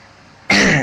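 A single harsh cough bursts out abruptly after a short quiet moment, loud and close.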